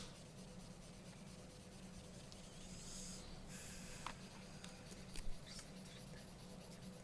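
A pencil rubs back and forth across paper while shading in a drawing, a soft continuous scratchy hiss, close and quiet, with a few faint taps.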